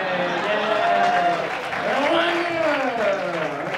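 Kids in an audience applaud and cheer at a local evening show, a dense, steady wash of clapping and high excited voices lasting the whole stretch without a break.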